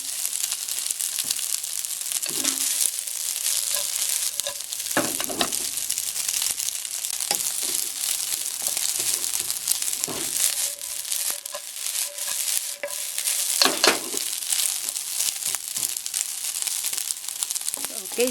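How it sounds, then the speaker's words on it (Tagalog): Fried rice sizzles steadily in a pan while a utensil scrapes and stirs it in irregular strokes, close and continuous, with faint talk in the background. "Haluin natin mabuti para magpantay yung pagkaka-fry natin dito sa rice."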